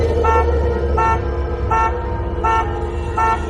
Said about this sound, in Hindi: ठीक तभी पीछे से गाड़ी का हॉर्न बजा।